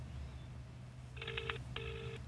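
Telephone ringing on a TV game show, two short electronic ring bursts close together, fairly faint over a steady studio hum.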